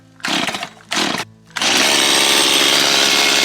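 A chainsaw being started for cutting firewood logs: two short loud pull bursts with brief gaps, then the engine catches and roars steadily at close range.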